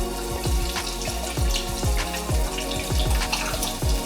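Chicken stock poured into a pot on a high stove burner, a steady liquid splash with repeated glugging pulses, close and moderately loud, with no talking.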